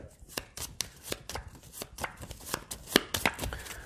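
Playing cards for the Pathfinder Adventure Card Game are shuffled into a deck on a tabletop, making a quick run of irregular crisp snaps and flicks at close range, with no talking.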